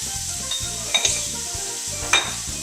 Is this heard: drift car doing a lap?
no